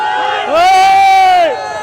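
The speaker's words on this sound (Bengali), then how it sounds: "জনগণের উল্লাস দেখেন ভাই" A crowd celebrates outside the Ganabhaban, Bangladesh's prime minister's residence, with one loud, drawn-out shout rising close above the background crowd noise for about a second before fading back.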